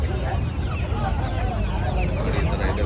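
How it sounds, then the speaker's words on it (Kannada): Chickens, ducks, turkeys and guinea fowl cluck and honk at a busy Saturday goat and sheep market in Chandapura, a dense mix of bird calls over crowd noise and low rumble. "ನೋಡಿ ಈ ಥರ ಇದೆ ಕೋಳಿಗಳು"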